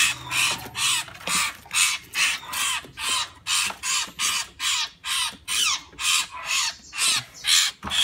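A caged bird, mini 21 cm 'lửa' type, sings a long chain of about fifteen sharp, rasping trill phrases in steady rhythm, loud and close, with no voices.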